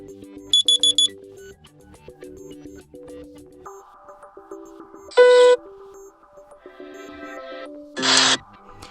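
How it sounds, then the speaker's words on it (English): Alarm ringtone previews play on a OnePlus Ace 3 phone: a series of short electronic tones and melodic beeps, loud and close, with brief bright chime bursts and no talking. "Then you can pick one of those system themes to pick the perfect sound for your alarm."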